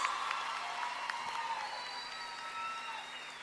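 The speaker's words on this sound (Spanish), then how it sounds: "¡Aplausos!" Audience applause after a guest singer's appearance at a live Spanish-language music show, a dense steady wash of clapping and cheering held at an even level throughout, with a faint tonal hum underneath.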